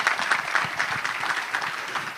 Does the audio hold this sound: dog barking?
no